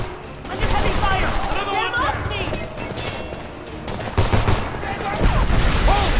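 Heavy video-game gunfire from Homefront, a dense sustained fusillade of rifle and machine-gun bursts with crashes, loud and continuous while shouted voices break through.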